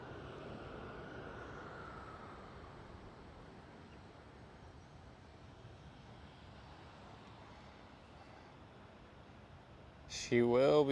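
Boeing 747 engines at Schiphol airport make a faint, steady, distant rumble that holds for most of the span before a voice starts talking near the end.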